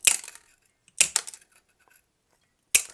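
Metal mosaic nippers trim crockery pieces for mosaic work, giving sharp crunching snaps in three separate bursts, each with small crackling fragments that fade out, close and fairly quiet with no talk.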